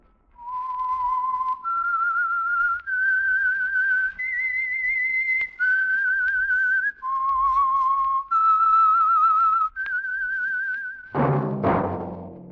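A lone whistler performs the signature theme of The Whistler, a CBS old-time radio mystery, as a slow, eerie melody of sustained clear notes that rise and fall, ending in a burst of orchestral music.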